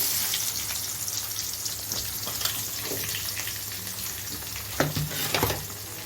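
Onions fry in oil with whole spices such as cloves and fennel, making a continuous close sizzle under light stirring, with a few brief louder crackles and spatula scrapes near the end.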